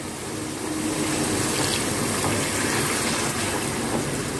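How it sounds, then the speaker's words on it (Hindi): Water pours steadily into a cooking pot for an aloo keema stew, a continuous broadband rush and splash with no talking, holding an even level throughout. "अब इसमें मैं पानी डाल रही हूँ।"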